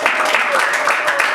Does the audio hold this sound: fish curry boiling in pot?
no